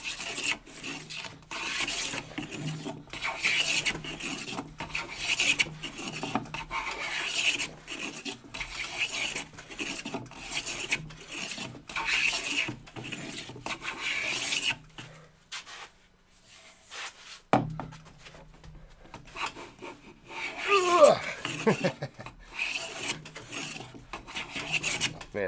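Red oak is worked with a steady, rhythmic rasping and rubbing stroke, close and moderately loud, pausing briefly before the scraping resumes with a few sharper scratches.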